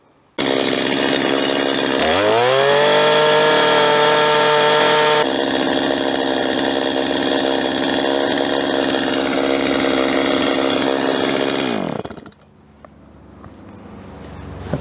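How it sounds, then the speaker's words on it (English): A chainsaw revs up and cuts steadily into a log to clean out a tenon during a log cabin build in the Ozarks, loud and close for about ten seconds before the engine drops back to idle. "so I'll do that with a chainsaw"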